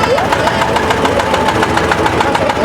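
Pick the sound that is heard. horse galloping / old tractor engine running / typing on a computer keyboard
old tractor engine running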